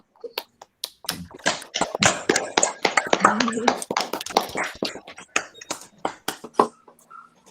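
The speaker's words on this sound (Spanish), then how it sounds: "les pedimos por favor a los asistentes abrir sus micrófonos para un aplauso a Camilo" Scattered claps and taps from an online audience come through open microphones after a math lecture, arriving unevenly and close-miked, with voices talking over parts of it.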